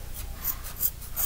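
Scissors snip through felt while a mask is trimmed, giving a few close, crisp cutting strokes in a steady rhythm with soft rubbing between them.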